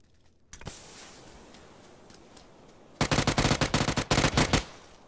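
Submachine guns trading fire in an online shooter: a short quiet stretch, then two dense bursts of rapid automatic shots, loud and close, separated by a brief pause.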